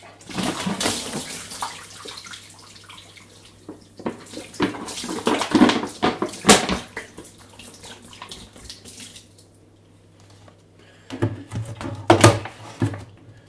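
Water splashes and gurgles into a sink as a DIY aquarium CO2 bottle that held baking soda and citric acid is emptied out, with irregular bursts of pouring and clunks of plastic against the basin, close and fairly loud.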